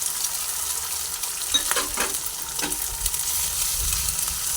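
Eggs fry with okra and green chillies while being stirred in a pan, a continuous close sizzle with scraping stir strokes and a few sharper clatters.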